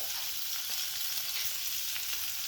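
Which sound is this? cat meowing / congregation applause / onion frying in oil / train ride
onion frying in oil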